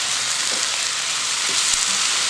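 Diced potatoes for a vegetarian samosa filling frying in a hot pan, a loud, steady, dense sizzle with faint scrapes of stirring underneath, close up and without speech.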